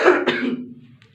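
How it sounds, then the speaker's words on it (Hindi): A man gives a short, harsh cough or throat-clear, one rough burst followed by a quick second catch that fades quickly, close and alone. "सॉरी दोस्तों थोड़ा सा खांसी हो गया"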